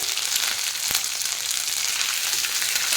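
Watery ginger paste frying in hot oil in a pan gives a constant bright sizzle with fine crackling and a few soft pops, steady and close, with no talking.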